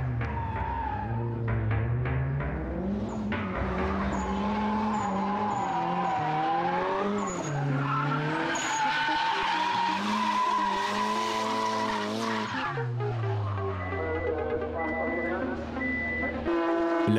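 A Nissan 200 drift car loses control on a circuit, its engine note rising and falling over tire skids that run continuously for about seventeen seconds, loud and close, with commentary talk over it.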